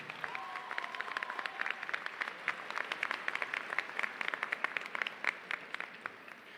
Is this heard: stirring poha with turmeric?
no